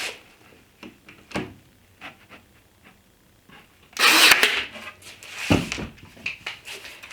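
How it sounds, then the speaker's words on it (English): A power driver sets screws into a wooden storage bench, one strong buzzing burst near the end amid soft knocks and handling noises. "that's good enough while I drive my screws in place."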